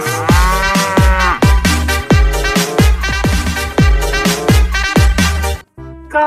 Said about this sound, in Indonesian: Wow, ini sapi.